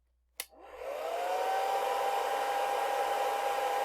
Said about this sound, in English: I have a hairdryer here.